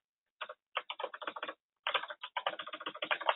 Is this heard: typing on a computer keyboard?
yes